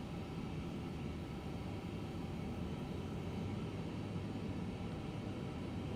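Airbus A350 engines spooling up for takeoff in Microsoft Flight Simulator 2024, with the departure out of Auckland: a steady, dense broadband roar that holds at a constant, loud level throughout, with no talk over it.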